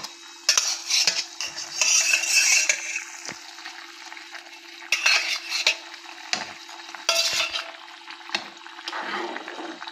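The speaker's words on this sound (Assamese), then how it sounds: "অকণমান লৰাই দিব লাগিব" A spoon stirs fish curry in a pan, with fried fish added to the simmering gravy, producing several bursts of scraping and clinking against the pan over a low steady hum, with no talk.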